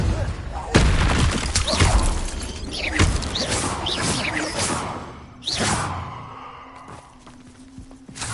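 Repeated Confringo blasting spells in Hogwarts Legacy, loud fiery bursts with whooshing crackle and shattering debris, several detonations in quick succession over layered game effects.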